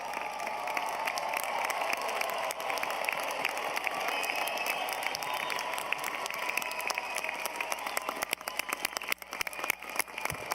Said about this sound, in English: I think there are hundreds of people in the stands who would like to stand up and give you a standing ovation